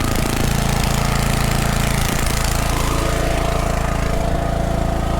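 A repaired small engine running steadily with oil burning off its muffler, a loud, continuous, close chugging drone with rapid knocking pulses and no talk over it.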